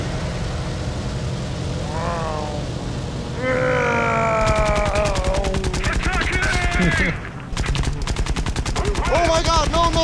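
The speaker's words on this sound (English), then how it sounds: "I'm being strafed." Rapid machine-gun fire rattles in long bursts from a strafing aircraft in the video game War Thunder, loud and close, with engine drone and whining tones underneath and a brief pause midway.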